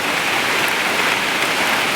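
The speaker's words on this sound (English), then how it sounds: "Rain is coming down hard" Heavy rain pours down during a nighttime storm, a dense and steady loud hiss of drops pounding surfaces close by, with no pauses and no voices.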